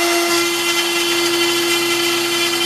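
An X-Carve CNC spindle runs steadily while carving, a loud, constant high-pitched whine with a strong sustained tone and grinding cutting noise, close up and uninterrupted.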